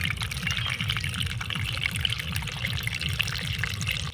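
A waterfall pours in a continuous, even rush of water, steady and fairly loud with no breaks and no voices.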